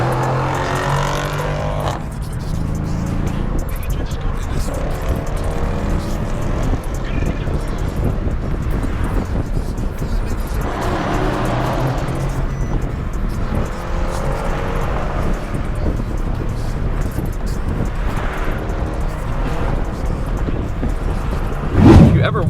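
A car drives through New York City traffic, with a steady, loud engine and road rumble plus wind buffeting across the whole stretch and a brief louder burst near the end.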